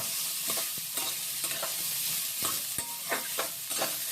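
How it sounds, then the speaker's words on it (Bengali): Oil sizzles steadily in a pan of frying beans while a utensil stirs and scrapes at irregular intervals, close by with no talking. "এবার এটাকে ভাজা ভাজা করব"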